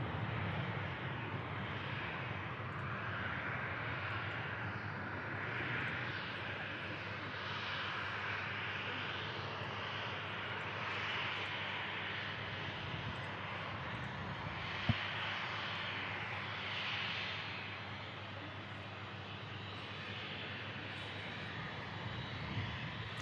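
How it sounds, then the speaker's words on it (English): A Ryanair airliner climbing out after takeoff, its engine roar a steady, broad rumble that holds at an even distance throughout, with no talk over it. "That Ryanair's climbing out"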